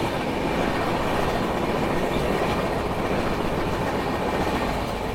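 A local train runs steadily on its rails, heard from inside as a loud, continuous rumble and rolling clatter that stays even throughout with no voices.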